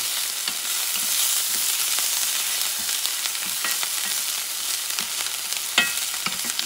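Rice with pork feet and bell pepper stirred in a frying pan over medium heat, a steady sizzle with scattered scraping clicks of the utensil throughout.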